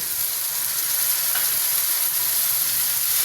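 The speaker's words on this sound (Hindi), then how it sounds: "अब इसको 4 से 5 मिनट इस मसाले के अंदर भूनेंगे" Onion and tomato masala frying over high heat for chana degi pulao, a steady loud sizzle with stirring scrapes throughout, no voices.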